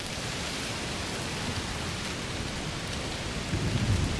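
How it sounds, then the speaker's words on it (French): Heavy rain pours steadily during a thunderstorm in the video game A Plague Tale: Requiem, a dense, loud, unbroken roar with a deeper rumble of thunder swelling near the end. "Il pleut très fort. Oui, un orage de chaleur sûrement."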